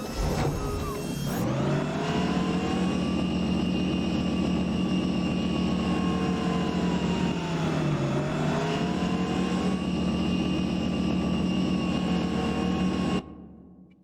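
Video game truck cruise sound effect in American Truck Simulator: a steady engine drone with a continuous whine that dips and rises in pitch, loud and sustained before cutting off abruptly at the end.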